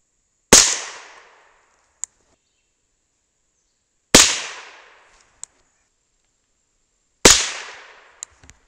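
Nail gun blanks firing .22 pellets at a target ten yards away: three sharp, loud cracks spaced a few seconds apart, each followed by a short decaying echo and a small distant tick of impact.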